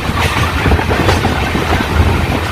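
The Kolkata Balurghat Tebhaga Express, an LHB-coach train, runs along the line through a curve near Palla Road, giving a loud, steady rumble with rolling clatter and wind buffeting close to the microphone.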